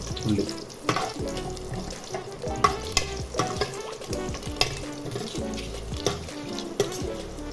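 Bay leaf and cinnamon fry in a pan while being stirred, giving a dense, continuous sizzle with repeated scraping and clinking strokes throughout.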